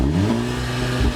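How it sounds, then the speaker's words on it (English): A short burst of a VW Golf GTI's engine revving, a loud, steady exhaust roar that dips briefly near the end. "And this is how the GTI sounds."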